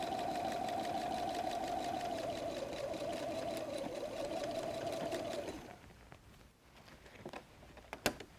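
Sewing machine with an open-toe foot stitching across faux suede, a steady loud whirring hum for about five seconds that then stops, followed by quiet handling and a couple of sharp clicks.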